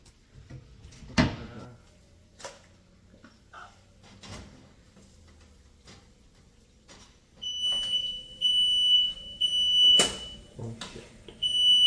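A smoke alarm goes off in a home kitchen during paratha cooking: a shrill, steady electronic beeping runs through the last few seconds, following scattered clatters and thuds of kitchen activity.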